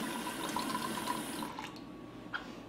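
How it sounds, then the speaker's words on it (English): Half a cup of water is poured into a bowl for bread pudding, a steady close splashing trickle that tapers off after a couple of seconds. "And then about a half a cup of water."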